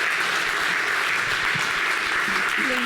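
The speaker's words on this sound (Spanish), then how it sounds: "Bueno, entonces vamos a hacer un fuerte aplauso para Angie y Ana." Audience applause at a Sabor y Negocios 2025 business event session, a steady wash of many hands clapping through the clip with faint voices murmuring underneath.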